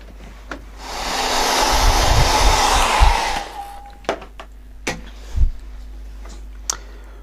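A hair dryer blows steadily for a few seconds to dry a watercolour sky painting, then switches off, leaving scattered faint knocks and clicks.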